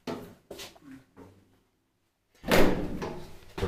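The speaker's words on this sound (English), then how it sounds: "Shall I close the door?" The door of an old Kone traction elevator in an apartment building in Kerava, Finland, closes with a loud thump and clatter after a few short quieter knocks and a pause.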